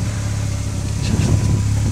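A Volkswagen Golf fitted with a Sebring exhaust rumbles steadily nearby, a low, even engine note holding at idle with a slight swell toward the end.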